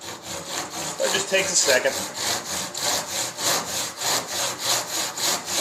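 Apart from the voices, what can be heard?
Disston hand saw sawing wood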